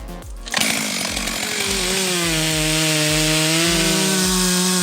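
A Stihl MS462 chainsaw cuts through a standing beech tree during felling. The engine revs up sharply and holds a loud, steady high-pitched whine with a pulsing low rumble, close and continuous.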